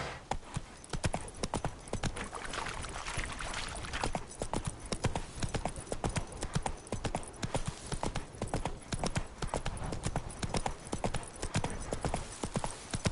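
Roach, the horse in The Witcher 3, clip-clops steadily along, hooves striking in a quick, even rhythm that continues throughout, close and prominent over faint background ambience.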